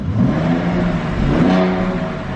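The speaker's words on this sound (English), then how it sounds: "Let's go ahead and hear that AMG exhaust." A 2020 Mercedes-AMG GLC 43 4MATIC SUV revs up loudly close by, a deep rumbling exhaust swelling and easing over a couple of seconds with no talking.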